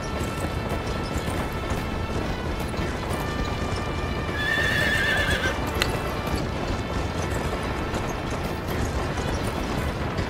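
Rapid hoofbeats of a galloping horse pound steadily throughout, with the horse's loud neigh rising midway over a dense, rumbling mix of game noise in Red Dead Revolver.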